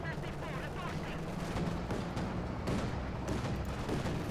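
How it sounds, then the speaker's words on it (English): Flak Panzer anti-aircraft flak fire in the video game Company of Heroes 2, a steady rattle of rapid gunfire and booms running throughout beneath continuous talking. "being met here by the Flak Panzer and a face full of flak fire"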